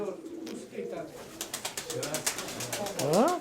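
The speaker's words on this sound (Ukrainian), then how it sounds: "Хай подивляться, яких голубів тримає Константинович" Pigeons kept by a fancier coo and flutter nearby, with soft low coos, a run of quick clapping wingbeats and a rising call at the end, all under quiet background sounds.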